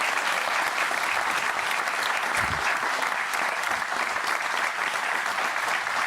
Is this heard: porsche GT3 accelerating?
no